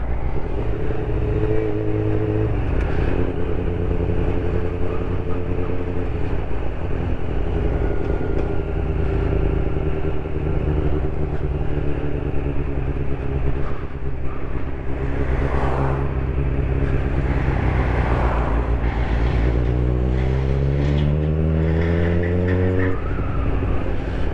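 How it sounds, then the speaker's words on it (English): A Honda CB400 Super Four motorcycle engine idles steadily at a raised idle of about 1500 rpm, a loud, continuous low hum that holds throughout, with a brief rise in pitch near the end. "That's the idle raised to about 1500, which is a lot better."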